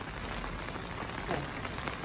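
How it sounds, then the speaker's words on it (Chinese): Steady rain falls outside in summer, a dense, even patter of drops on surfaces filling the whole stretch without any clear voices. "好不容易等到下雨了"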